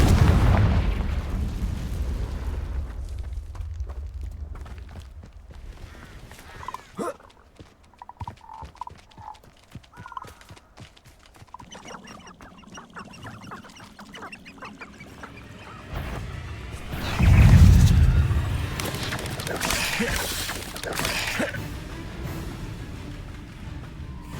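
Confringo explosion spells blast rocks in Hogwarts Legacy, a series of sharp impacts and crackling bursts with one heavy booming blast near the end, set among game music and effects.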